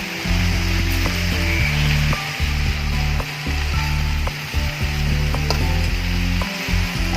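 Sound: stir-frying kurdu vegetable in a kadhai

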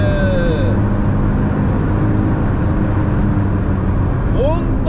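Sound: Honda S660 Modulo X sports car driven hard on a circuit

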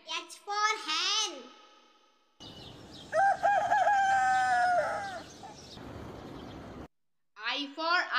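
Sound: hen or rooster crowing

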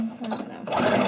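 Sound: sewing machine stitching a cloth face mask

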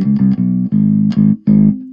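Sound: Squier Affinity PJ bass played through an amp, flat EQ

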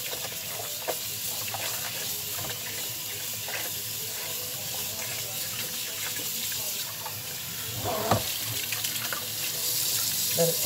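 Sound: tap water running, rinsing pork sirloin in cold water

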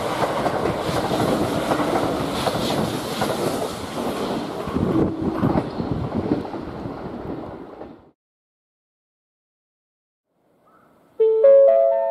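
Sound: train passing through station

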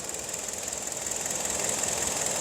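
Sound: Hyundai Sonata engine idling after cylinder head replacement

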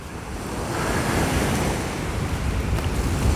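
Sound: waves of the Sea of Azov breaking on the shore, wind

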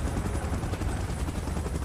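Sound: helicopter in a Godzilla vs Kong video game

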